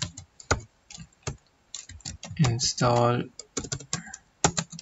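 Computer keyboard typing in quick bursts of sharp clicks, close and fairly quiet, mixed with someone speaking in between the keystrokes.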